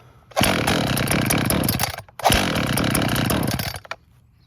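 An ECHO CS-440 chainsaw with running issues, on a questionable fuel mix, revs loudly twice: two sustained, close buzzing bursts of about two seconds each, separated by a short drop to a quieter idle.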